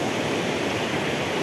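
River water flows in a nature reserve on one of Colombia's clearest rivers, a steady, loud, broadband rush with no breaks and no voices.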